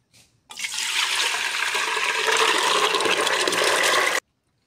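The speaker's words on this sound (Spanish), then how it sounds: "Vamos a agregar estos garbanzos." Soaked, washed chickpeas are poured together with water into an Instant Pot Duo Plus 6-quart pressure cooker, making a brief faint splash followed by a steady rushing pour of about four seconds that ends abruptly, with no voices.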